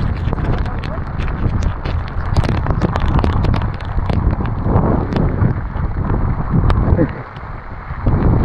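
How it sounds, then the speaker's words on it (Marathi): Strong wind roars into the microphone while riding a motorcycle in rain, a loud continuous buffeting rumble with irregular gusty thumps, and voices are heard talking over it. "भाई काय वारा सुटलाय. वारा वगैरे काय भारी आलाय."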